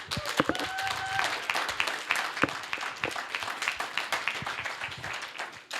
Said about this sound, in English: I'd like you guys to give Larissa and Jason and Saul a round of applause